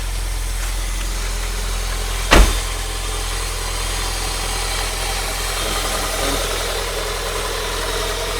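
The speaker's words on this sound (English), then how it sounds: "the car has started" A Rover/MG 200/25/ZR car engine idles steadily just after a fuel filter change, a close, even rumble with one sharp knock or click early on.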